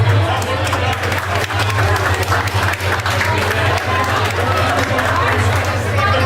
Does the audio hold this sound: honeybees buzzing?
no